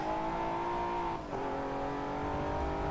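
Nissan GTR engine holding a steady high drone on a hot lap at Lime Rock in Forza Motorsport, with a brief dip around a gear change before the note climbs again, loud and continuous with no talk.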